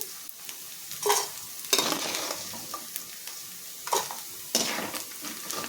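Soaked soya chunks sizzle in a hot pan as a spoon stirs and scrapes them every second or so, a constant crackling hiss close by.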